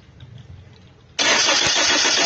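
A Hyundai Tucson that won't start is cranked, with a sudden loud, steady churning of the starter and engine that fails to catch, after a second of quiet background.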